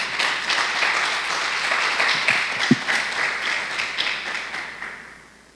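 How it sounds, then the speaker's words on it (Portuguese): Church congregation applauding during a sermon, a broad sustained wash of clapping from many hands that holds steady, then gradually fades out toward the end. "Você pode dar um aplauso ao Senhor aí?"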